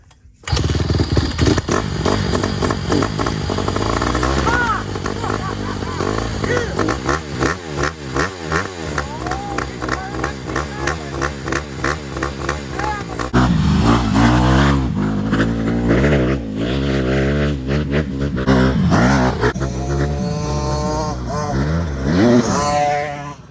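An engine on a private race track revs loudly and continuously with rising and falling pitch, close up, with brief voices partly heard over the roar.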